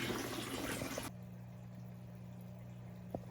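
Water runs steadily into a 55-gallon aquarium tank, first as a broad rushing hiss. It then drops to a quieter, constant trickle with a low hum underneath and a faint bubble or plop near the end.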